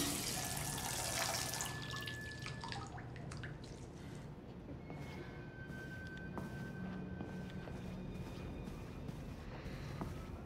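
Tap water running into a bath in Detroit: Become Human, a continuous splashing gush with dripping and trickling detail that stays steady throughout, close by.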